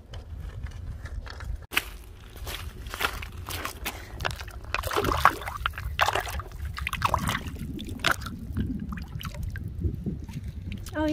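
Water sloshes and splashes over an agate rock as it is washed off outdoors, an irregular close-up wash of trickles and spatters with no one speaking.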